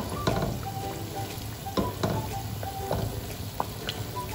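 Khajoor mithai, a sweet dough snack, frying in a pan of oil gives a steady close sizzle with small pops and crackles throughout, and no one talks.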